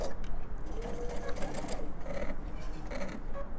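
A sewing machine stitches a strip quilt, running in fast rhythmic bursts of needle clatter with brief pauses, close and fairly loud throughout.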